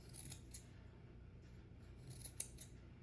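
Scissors trimming the fabric corners of a small denim jacket for a Smart Doll, making a few quick, quiet snips with soft rubbing of cloth between them, heard close with no talk.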